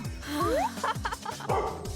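A puppy gives short, high yips and whimpery barks close by during play, with a person's voice mixed in.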